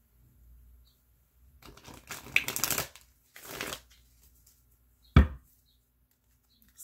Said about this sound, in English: I'm not trying to shuffle off camera, but when I shuffle, it messes up my other cards